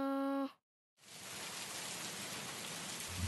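Steady rain falls in a children's cartoon, a loud, even hiss that starts suddenly after a short tonal chime and a brief silence, continuing unbroken to the end.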